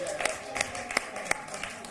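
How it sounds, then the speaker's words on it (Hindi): Brief, thin applause with a few distinct claps rises from the audience at a Hindi satirical poetry event on political and bureaucratic corruption. It sounds faint and a little distant. "आपकी जोरदार तालियां उन तक पहुंचे।"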